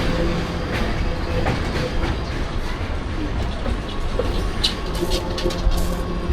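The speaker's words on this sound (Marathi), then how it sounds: "बघू शकता तुम्हाला जे एक्सप्रेस ट्रेन आहे गावी जाण्यासाठी जे ट्रेन असतं ते तुम्हाला इथं बघा" A long-distance express train stands at a Mumbai station, its rumbling wheels and clattering carriages forming a steady dense roar with faint brief squeals, and a few birds call faintly above it.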